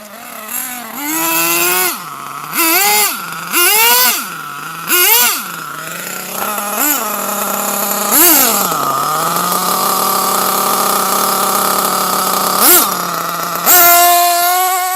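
A Hot Bodies HPI D8S buggy's 3.5 nitro engine, running rich, screams through a series of short rising and falling throttle blips, then holds a sustained high-pitched whine with occasional sharp revs, close and loud.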